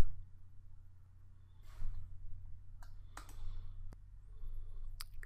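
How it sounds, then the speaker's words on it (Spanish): Mouse clicks on a computer while building a website footer in WordPress with the Divi theme builder: a few sharp, isolated clicks spread over the stretch against a low steady hum, with no talk. "Y hacemos clic en empieza a construir."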